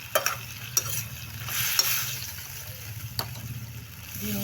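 Sweet potato leaves stir-fry with soy sauce in a pan, a close, steady sizzle with a few sharp clacks of the spatula and a brief swell of hissing liquid, no voices.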